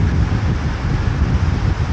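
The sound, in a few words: wind blowing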